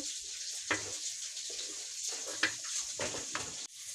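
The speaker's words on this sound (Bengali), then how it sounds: "এবার এটা দিয়ে দিচ্ছি টমেটো কুচিগুলো দিয়ে এটাকে ভালো করে কষিয়ে নেব" Chopped tomatoes go into a pan of prawn malaikari being cooked Bengali style, giving a soft sizzle with a few stirring scrapes and light clatters, fairly quiet and close, without speech.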